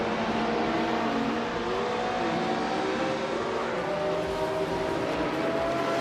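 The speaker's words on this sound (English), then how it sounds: "Nettisberry is racing a vintage Porsche 909 Bergspider from 1968." A vintage 1968 Porsche 909 Bergspider races with a steady engine drone, its rising and falling tones carrying continuously at moderate volume with other cars mixed in.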